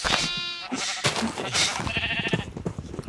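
Sheep in the video game Factions bleat in several wavering, nasal cries one after another, loud and close, with brief gaps and scuffling between calls.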